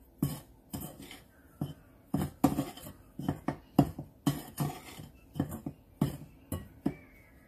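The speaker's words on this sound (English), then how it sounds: "now we're gonna go ahead and just stir these ingredients together" A spoon stirs baking ingredients for strawberry shortcakes in a bowl, giving a steady run of scraping strokes with light glassy clinks about twice a second, close and fairly quiet, with no talking.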